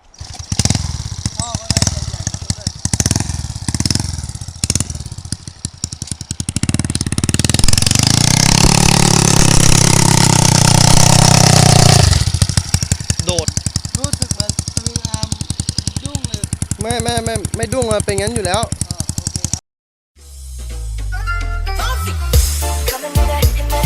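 A Honda Dream motorcycle with a long exhaust pipe revs hard for a launch and tyre burnout, a loud, sustained, rattling engine roar with rapid pulses that cuts out abruptly near the end before firing up again, with voices at times.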